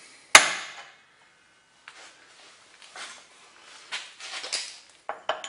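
A hammer strikes a stuck bushing on a Highland Park 18-inch rock saw: one sharp metallic blow, then a run of lighter, irregular taps and knocks over the next few seconds.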